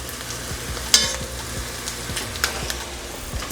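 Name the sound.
stirring tomato paste frying in a pan with bacon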